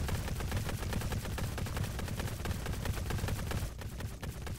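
Continuous dense gunfire in the video game Smash Look! The Admin, a steady rattling stream of rapid shots at moderate level that thins briefly near the end.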